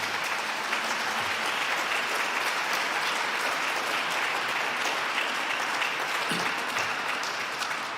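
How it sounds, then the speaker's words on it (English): Sustained audience applause in Truro Cathedral greeting a choir arriving for a competition, a dense, even wash of many hands clapping that carries on loudly and steadily for several seconds, reverberant and without speech. "give them a round of applause as they've arrived"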